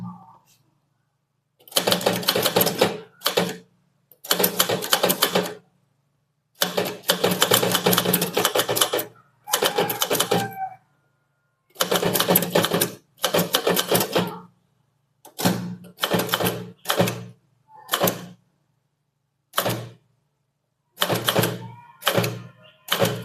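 Bursts of rapid clacking keystrokes on a typewriter come in rhythmic runs separated by short pauses, close and loud, typing out a junior English statement exercise.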